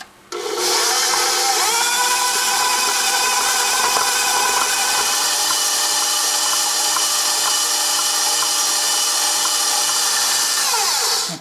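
An electric mixer whips sugar cookie dough for a long, steady stretch, its motor whirring loudly and evenly from switch-on to a quick stop at the end, with no speech.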